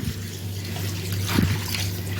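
Water is poured into a pot of chicken pulao, a soft trickling splash rising midway over a low steady kitchen hum.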